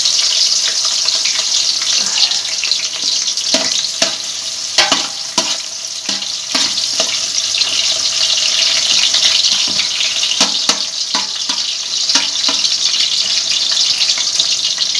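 Onions frying in hot ghee for an aloo matar pulao, a loud, steady sizzle with scattered clinks and stirring taps of a spoon against the pan, close up and with no one talking.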